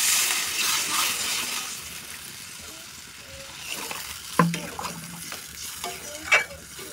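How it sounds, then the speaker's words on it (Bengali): Water pours into a pan of spiced potatoes that have been frying in masala, setting off a burst of sizzling and hissing, with stirring clinks and scrapes, close up. "এবার জল দিয়ে দেবো।"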